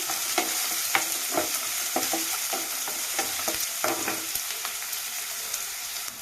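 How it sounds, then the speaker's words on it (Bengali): Chopped onion and green chillies frying in a pan for chickpea bhuna, stirred with a spatula that produces rhythmic scraping knocks over a constant bright sizzle, close by and with no voices. "পেঁয়াজ কুচি লঙ্কা কুচিটা দিয়ে এটাকে নাড়তে থাকবে"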